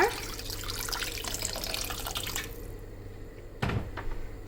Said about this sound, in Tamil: இப்போ இதில் நான் தேவையான அளவு தண்ணி சேர்த்துக்கிறேங்க.